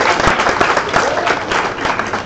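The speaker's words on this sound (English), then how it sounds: "A warm round of applause to Elijah." An audience at a live event gives a warm round of applause, a dense burst of many hands clapping together that stays loud throughout.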